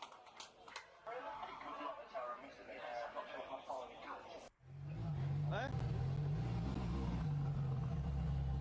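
Ferrari LaFerrari supercar engine bursting in after a sharp cut, a loud, close, sustained roar that rises as it revs, preceded by people talking and chuckling.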